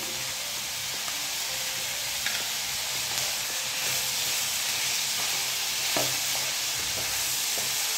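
Schezwan chutney, about half a small bowlful, is stirred into a hot pan and sizzles with a steady close hiss, broken by occasional scraping clicks of the spatula.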